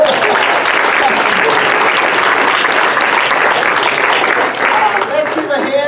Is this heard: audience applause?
yes